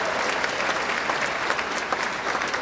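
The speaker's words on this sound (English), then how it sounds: "Big round of applause for Pedro, Dolly, and the whole team." A circus audience applauds steadily at an opening performance, dense clapping filling the whole stretch at an even, sustained level.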